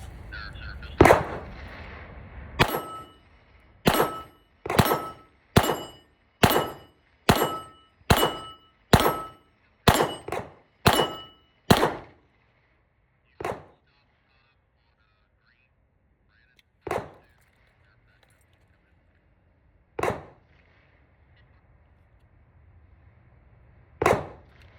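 A PSA Dagger pistol fires through a magazine outdoors, a rapid string of about a dozen sharp, loud shots at an even pace, followed by a few spaced single shots after a pause.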